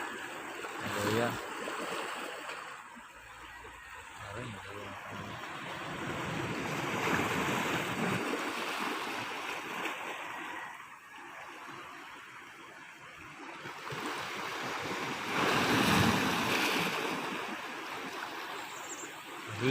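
Ocean waves wash against the shore at the Bantayan rock formation in Samar, surging and receding in slow swells with wind buffeting the microphone and a voice speaking briefly in the background.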